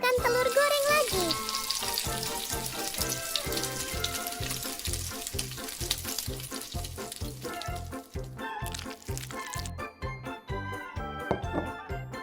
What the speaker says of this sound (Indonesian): Kita akan siapkan telur goreng lagi.